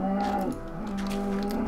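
A blocky Minecraft cow gives a single drawn-out moo, loud and close, its low tone dipping midway and then holding steady to the end with no talk over it.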